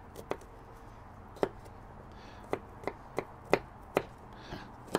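A knife chops garlic on a board in sharp, irregular taps, about a dozen crisp strikes spaced unevenly, close and fairly quiet, while braised lamb shanks are being prepared.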